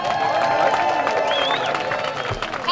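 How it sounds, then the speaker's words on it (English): A rally crowd applauds a speaker being invited to the stage at a national day of action, clapping and cheering mixed with shouts and voices, loud and close, with a whistle-like rising tone midway. "Give her a round of applause."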